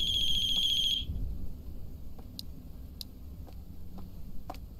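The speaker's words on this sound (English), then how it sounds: "Ringtone like a cartoon character tiptoeing." A bright electronic phone ringtone chimes for about a second in the game The Closing Shift and cuts off, leaving a quiet room with a few soft ticks and clicks.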